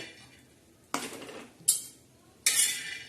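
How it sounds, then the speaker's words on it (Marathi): Peanuts go into a pan where green chilies have just been fried, ready for dry roasting. Three short rattling clatters of nuts hitting the metal sound over a quiet background, with brief pauses between them. "त्यांना आपण जे शेंगदाणे होते ते शेंगदाणे टाकणार आहोत भाजायला"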